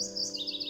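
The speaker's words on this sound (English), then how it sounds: "We're now hearing a mourning warbler up in the shrubs here." A mourning warbler singing from shrubs in forest, a short series of high, slurred chirping notes, fairly clear against a faint steady hum.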